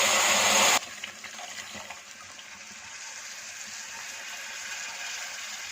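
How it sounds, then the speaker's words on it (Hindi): Sugar-and-water syrup poured into roasted semolina halwa in a pan over low heat: a loud, sudden sizzling gush lasting under a second, then a faint low hiss that fades into near quiet. "इसमें शक्कर और पानी का शीरा शामिल कर देंगे"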